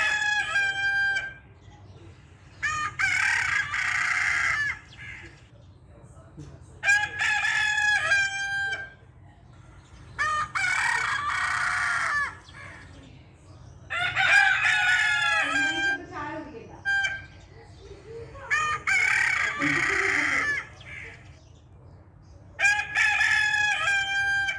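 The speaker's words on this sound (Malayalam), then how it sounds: "മരത്തിൻ്റെ മുകളിൽ കയറി ഇരുന്നാണ് കൂവത്തുള്ളൂ" A rooster perched up in a tree crows repeatedly, about six loud cock-a-doodle-doos spaced a few seconds apart, close by, with faint clucking and background noise between calls.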